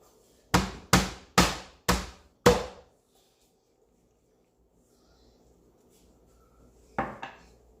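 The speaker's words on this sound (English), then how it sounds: "I'm going to beat up the ginger first" Ginger being pounded in a kitchen, five sharp evenly spaced thuds in quick succession, then silence and a couple of lighter knocks.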